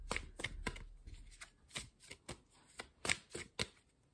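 Tarot cards shuffled and drawn, a series of crisp riffling and slapping bursts at irregular intervals, close and fairly quiet, with no talk.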